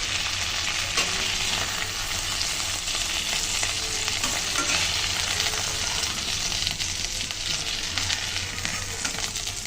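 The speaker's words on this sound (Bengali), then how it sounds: "এই মাছের এটা একটু ভালো করে ভেজে নেব।" Fish pieces sizzle in hot oil in a home kitchen pan, a dense, continuous frying crackle heard close up with occasional stirring and no talk.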